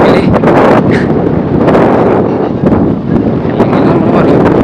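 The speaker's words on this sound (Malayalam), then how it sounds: "ഓ കാറ്റ്." Strong wind buffets the microphone with a loud, continuous roar at Ratnadurg Fort in Ratnagiri, on the Arabian Sea coast of Maharashtra, steady throughout with small gusting swells.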